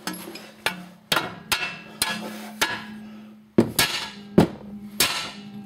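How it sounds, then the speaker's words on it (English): A steel hammer strikes a Ford Mustang spindle about nine times to free a tie rod during a 2005–2010 Mustang tie rod replacement, each blow a sharp, close metallic clang with a short ringing decay. "Take a hammer and just whack it a few times."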